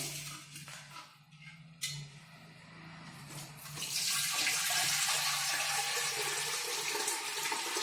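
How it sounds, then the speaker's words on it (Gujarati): Drinking water pours through a strainer into a clay pot in a steady, rushing stream that grows louder and fuller halfway through, with quieter handling sounds before it. "આપણે જે પીવાના ઉપયોગમાં લેતા હોઈએ તે પાણી આપણે અંદર ઉમેરીશું"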